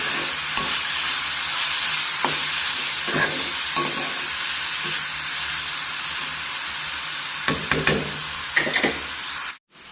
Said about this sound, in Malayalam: വീണ്ടും നന്നായി ഇളക്കി അരപ്പുമായി ചൗ ചൗ മിക്സ് ചെയ്യുക